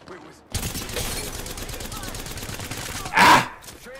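Sustained automatic gunfire in Apex Legends, a rapid stream of close, loud shots starting abruptly and running for about three seconds, ending in a sharp burst, with a voice talking underneath.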